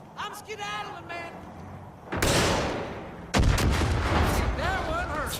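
Two heavy RPG blasts tear apart vehicles in Far Cry 5, each a sudden booming explosion with a long rumbling tail, while a voice talks over the gameplay.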